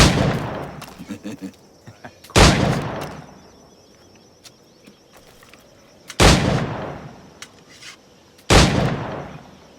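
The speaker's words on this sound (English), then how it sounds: "Pull off a few shots if you like, get a feel for it." Flintlock pistol shots fired in the pirate video game Assassin's Creed Black Flag: four loud, sharp reports spaced a few seconds apart, each with a brief echoing tail over quiet ambient game sound.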